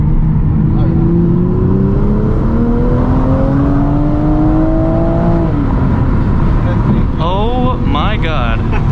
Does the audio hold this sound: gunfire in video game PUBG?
no